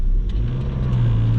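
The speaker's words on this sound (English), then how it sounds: "there's two of the smallest motorbikes trying to pull out the exit to our right" Small motorbike engines rev steadily and loudly nearby, a buzzing low drone that rises slightly toward the end, with no talking.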